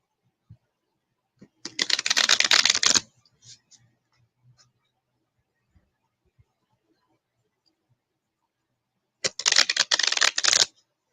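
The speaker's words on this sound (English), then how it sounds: "This shuffling is my ASMR." Playing cards shuffled in two brisk riffling bursts, the first lasting over a second and the second near the end, with near silence and a few faint ticks between them.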